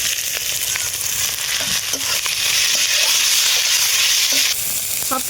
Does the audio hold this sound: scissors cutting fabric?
no